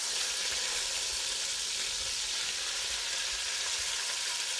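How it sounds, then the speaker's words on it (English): Pork sizzling as it fries in hot oil in a pan, a loud, continuous, even crackling hiss close up, alone with no talk. "Our oil is heating up pretty nicely here. We want to pre-cook our pork."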